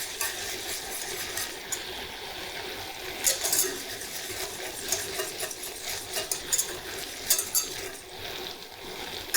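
A spoon stirs browning butter in a saucepan for a praline, quiet scraping and light clinks against the pan over a faint steady sizzle, with no talk.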